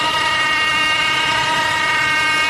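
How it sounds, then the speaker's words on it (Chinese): A car engine's faulty electronic thermostat gives off a steady, tonal whine layered over the running engine, holding constant and loud before cutting off abruptly at the end, with no voices. "这个是电子节温器异响"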